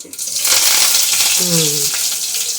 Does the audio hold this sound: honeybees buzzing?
no